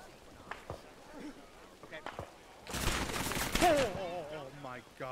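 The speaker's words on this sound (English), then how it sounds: "God, that sounds like an MG42." A rapid-firing machine gun much like an MG42 rattles in a Battle for Hue City video game, a loud, fast continuous burst lasting about a second amid scattered thumps, with voices talking around it.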